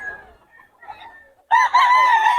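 Quiet chicken clucking at a market in Bocaue, Philippines, then a loud rooster crow bursts in close by and holds for about a second.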